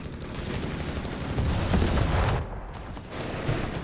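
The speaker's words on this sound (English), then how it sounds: "Mortar fire that's laying down the MD-42" Mortar fire lands during a Company of Heroes 3 battle, a cluster of heavy booming impacts mid-way and another thump near the end, amid a constant din of combat.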